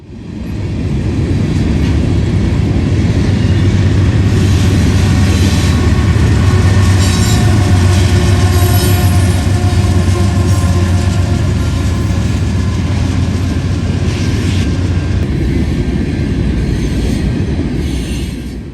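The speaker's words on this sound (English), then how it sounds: "enjoy his two mid-train DPUs pushing as hard as they can" A Norfolk Southern freight train on the Dayton District rolls past loud and close, two mid-train DPU locomotives pushing hard, a heavy continuous roar of engines and wheels with faint squeal over nearly twenty seconds.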